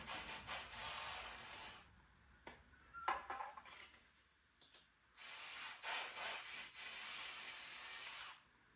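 Power drill with a 3/16 bit slowly opening holes in 3D-printed plastic parts, heard as two sustained whirring bursts separated by quieter clicks and handling noise, fairly close and moderate in level.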